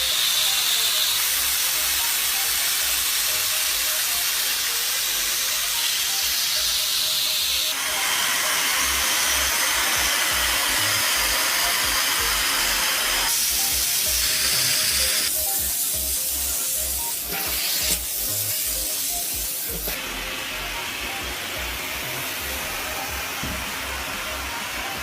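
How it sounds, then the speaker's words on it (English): An upholstery vacuum cleaner runs continuously over a sofa with a loud airy hiss and whine, its pitch and tone shifting abruptly several times as it works. "The advantage of an upholstery vacuum cleaner is that it allows you to clean the surface in one go"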